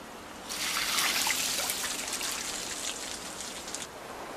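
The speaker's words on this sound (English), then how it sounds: "ice farmers repeatedly douse specially designed wood racks with water" Water poured over specially designed wooden racks to grow ice in the cold, a bright splashing patter that starts abruptly, stays loud and close, then eases off slightly toward the end, with no voices.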